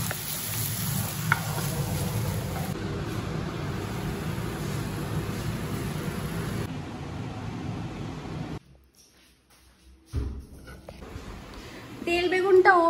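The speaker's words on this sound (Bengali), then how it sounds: "ওই তেল দিয়ে তেল বেগুন বানাচ্ছি" Eggplant frying in oil for Bengali tel begun in a home kitchen, a steady low sizzle over most of the clip that cuts out near the end, with some clatter and a voice speaking faintly.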